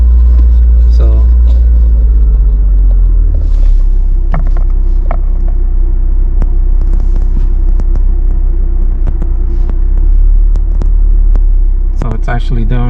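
A warmed-up Nissan 370Z with throttle body spacers and new intake tubes idles during an idle relearn, a steady deep rumble close by that holds evenly throughout with a few light clicks and faint voices.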